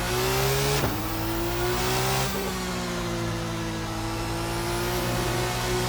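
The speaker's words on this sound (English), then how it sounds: "this engine is really to be feared. Once that turbo gets spooled up, this thing could really churn out the horsepower" Turbocharged race car engine in Assetto Corsa revving steadily and loud throughout, with a strong rising tone that dips sharply twice as gears shift, then climbs again.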